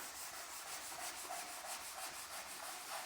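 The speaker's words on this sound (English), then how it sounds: "I'm just quickly going to sand all these nail holes" Hand sanding over filled nail holes in wood trim, a close, steady rhythmic rubbing scratch with quick back-and-forth strokes and no talk.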